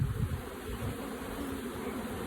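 Honey bees swarming around an open hive during robbing, a dense, steady, close buzzing drone with no talk.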